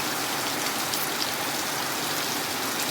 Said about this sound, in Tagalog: Mahirap sugurin po ang ganyang kalakas ng ulan.